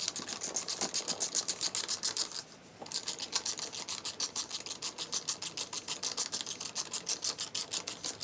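A threaded MacPherson strut spring compressor tool being tightened down onto a coil spring gives a steady, rapid rasping and ratcheting scrape, close and fairly loud, with a brief pause partway through.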